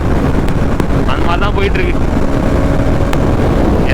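Bajaj Pulsar NS200 motorcycle riding at speed on a road at night, a steady engine rumble buried in heavy wind buffeting across the microphone, with the rider talking over it.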